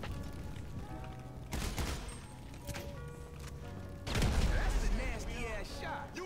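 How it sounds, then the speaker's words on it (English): Gunfire in GTA V: two sharp, loud bursts of shots about three seconds apart, cutting through a constant bed of game ambience and music-like tones. "I heard a gunshot."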